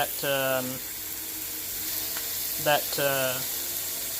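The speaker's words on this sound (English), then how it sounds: "right here into the pan, and you can hear that sear, which is good." Meat searing in a hot pan gives a constant loud sizzle and hiss throughout, close by, while someone speaks over it.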